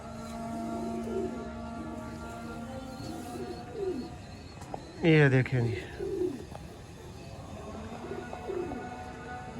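Pet pigeons kept in a Sialkot home give soft, repeated throaty coos, the loudest burst near the middle and fainter calls around it, while someone talks over them.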